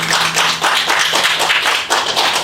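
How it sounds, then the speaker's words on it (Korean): At a 5.18 40th-anniversary remembrance concert, a small audience claps loudly and close by in a brisk, uneven patter, heard clearly on its own. "서로를 위한 격려의 박수 부탁드리겠습니다"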